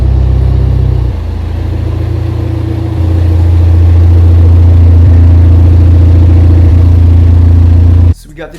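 Steady, loud low engine drone from a BMW G20 as it drives into a garage, holding fairly even with slight shifts in pitch before cutting off abruptly near the end.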